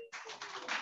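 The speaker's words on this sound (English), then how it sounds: "let's give a big round of applause for the incomparable Kathy" Brief, faint applause from an audience rises as a steady patter of many hands clapping, a little louder toward the end.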